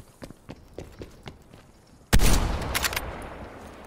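A single loud, close sniper rifle shot in a video game sniper match rings out with a long decaying tail, following several faint, quiet footstep-like taps.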